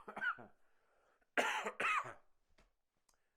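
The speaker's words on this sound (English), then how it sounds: "I almost got through this video without having a little cough attack" Two sharp, loud coughs from one person, close up, following a brief softer throat sound, then quiet.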